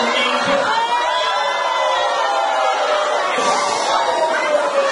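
Crowd at a 2013 concert sponsored by MMT Zimbabwe cheering and whooping in a loud continuous roar, with a voice carrying over it.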